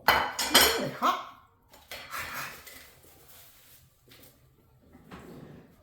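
Fried taco shells being plated onto dishes in a home kitchen, several close, loud clinks and clatters of plates and utensils at first, then quieter scattered knocks and rustles.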